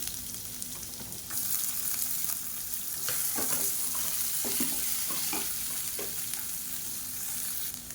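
Garlic cloves and sliced big onions frying in a pan, an even sizzle that jumps louder partway through, with clattering stirring strokes close by.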